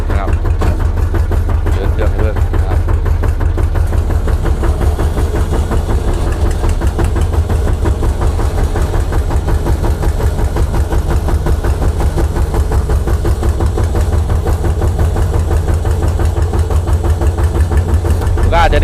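A Kubota ZT155 diesel engine on a Thai four-wheel e-taen farm vehicle runs steadily nearby with a rapid, even chugging knock throughout. No voices are heard.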